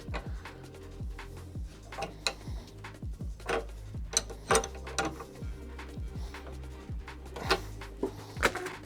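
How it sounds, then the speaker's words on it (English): A new prime valve is threaded by hand into a Graco Mark V paint sprayer, giving a quiet run of rapid ratcheting clicks and small metallic ticks, steady and close, with no voices. "New valve, thread her in."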